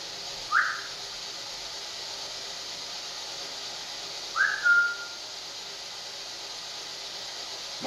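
Two short rising whistles at moderate distance, the first brief and the second longer with a held tail, heard against a steady hissing background in an old house where ghost hunters are investigating.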